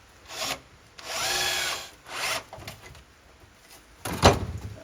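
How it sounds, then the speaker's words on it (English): Bursts of a power drill whirring in short runs through rusty, corroded metal on a Unimog 421 under restoration, with grinding and scraping between them and a sharper, louder burst near the end. "if I see a bit of rust in the swarf that's coming out of the hole I'm drilling"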